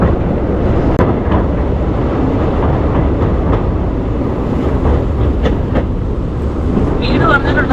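Amritha Express train running over the new Pamban Bridge at good speed: a loud, continuous rumble of wheels and carriages with faint rhythmic clatter and wind buffeting throughout, steady from start to finish.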